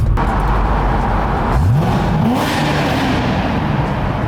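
A Corvette engine drones loudly, then rises in pitch as it revs against a rev limiter, echoing with a roaring, enclosed quality inside a tunnel, with steady road noise.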